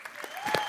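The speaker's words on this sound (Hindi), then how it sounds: "शिल्पा और राजपाजी के लिए जोरदार तालियां।" A studio audience applauds Shilpa and Raj on a television comedy show, a brief, close burst of clapping with a faint voice mixed in.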